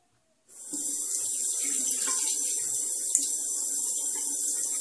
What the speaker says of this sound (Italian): Ho semplicemente messo dell'acqua nel palmo della mano